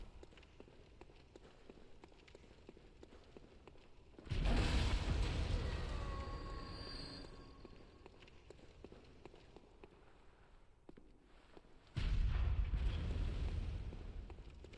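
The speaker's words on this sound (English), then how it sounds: "there's actually a guy manning the cannon this time" Cannon fire in the Bloodborne game: two loud, deep booming blasts, the first with a long rumbling, creaking tail that slowly fades, the second following several seconds later, with no talk over them.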